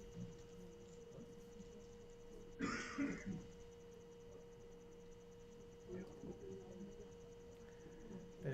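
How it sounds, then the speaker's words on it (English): A muffled cough and throat clearing sound once from somewhat far off, outside an indoor championship match, over a steady electrical hum, with a fainter cough a few seconds later. "Bit of coughing outside"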